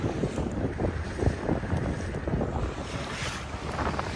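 Gusty wind rushes and buffets the microphone during a small boat ride on the Pasquotank River, with splashing water and hull slaps underneath, loud and close, without voices.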